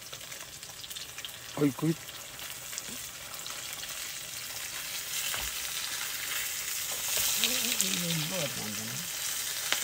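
Tofu frying in a frying pan, a steady sizzle under a man's brief speech and scattered background sounds, growing slightly louder toward the end.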